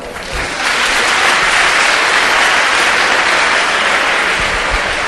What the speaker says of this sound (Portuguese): Palmas pro Adão.